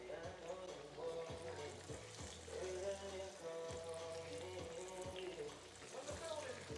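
Chicken frying in a pan, a steady crackle under a voice and some background tones, with occasional knocks and stirring sounds.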